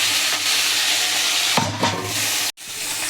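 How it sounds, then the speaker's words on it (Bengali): Steady hiss of whole rohu fish frying in hot oil, close and continuous, with a couple of brief bursts and a short cut near the end. "মাছগুলো সব ভাজা হয়ে গেছে এবার ফুলকপিটাকে ভেজে নেবো"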